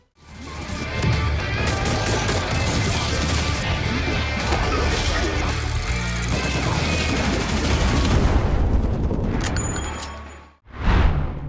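Counter-Strike played in VR: dense, continuous rapid gunfire and crashing blasts, loud and sustained for about ten seconds, then a sudden drop and a brief tone at the end.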